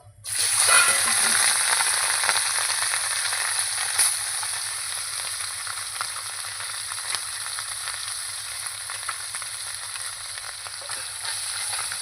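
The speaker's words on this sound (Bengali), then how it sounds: "কিন্তু আমি এইভাবে ভেজে নেব আবার আমি এখানে মাছ দিয়ে দেবো" Tengra fish fry in a pan of hot oil with a loud, continuous close sizzle that barely changes, plus a low steady hum beneath it and an occasional faint pop.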